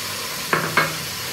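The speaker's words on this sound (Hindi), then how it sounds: "चले हम इसको दही के साथ अच्छी तरह से फ्राई करते हैं और इसमें हम 4 गिलास पानी डाल देते हैं" Chicken nihari masala fries with yogurt in a pot, with two quick stirring scrapes over a soft steady sizzle, close and brief.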